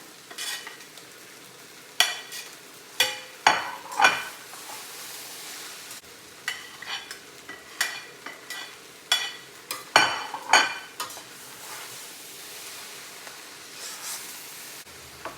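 Shrimp fried rice with bean sprouts and egg stir-fried in a pan, a steady sizzle broken by repeated scraping, tossing strokes, loud and close, with no talking.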